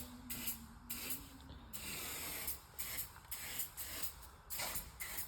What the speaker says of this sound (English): This is a nice little spray